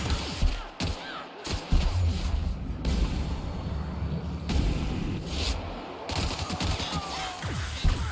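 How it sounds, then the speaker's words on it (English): An electric gun firing in The Outer Worlds amid a chaotic firefight, with repeated crackling bursts and impacts layered over dense, loud combat noise throughout. "Oh, that's like an electric gun."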